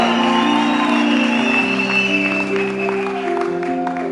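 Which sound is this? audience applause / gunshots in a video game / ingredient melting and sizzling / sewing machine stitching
audience applause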